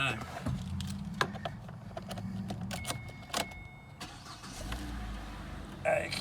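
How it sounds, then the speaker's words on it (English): Kia Cerato engine being started from inside the car, with key jingles, clicks and a brief crank before the engine settles into a low idle, while a person talks. "Just going to jump on in and turn the car on."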